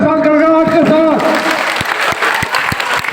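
At a political nomination rally, a crowd breaks into loud applause and cheering as voices carry over the top, with a few sharp thumps standing out near the end.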